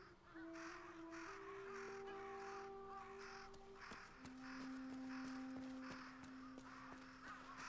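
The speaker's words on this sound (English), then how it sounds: "Smeared with bait to attract crows." In the video game Ghost of Yotei, several crows caw in repeated harsh bursts near a body smeared with bait, the calls overlapping against a steady ambient background with tonal game music.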